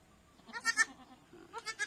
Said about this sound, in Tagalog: Bagong labas na kambing.